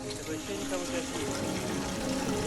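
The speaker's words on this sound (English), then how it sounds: "The tank was filling with water" Water runs steadily into a tank after a long spell without supply in the Philippines, a continuous rushing fill at close range with a faint murmur of activity behind it.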